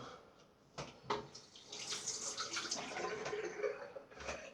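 Water runs from a tap with a rushing, splashing hiss, starting after a few brief knocks and continuing steadily to the end, while shaving with a Parker SRX shavette razor.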